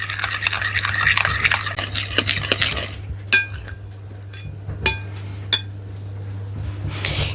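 A spoon scrapes and clinks around a bowl while cake batter with a full sachet of yeast is mixed, first as busy continuous scraping, then slowing to a few isolated sharp taps against the bowl.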